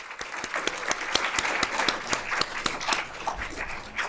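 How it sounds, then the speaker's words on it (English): Applause from a symposium audience for a panel on moving water to the Great Salt Lake: dense, steady clapping from a crowd, moderately distant, with individual sharp claps poking through the wash. "So let's begin by giving them a round of applause."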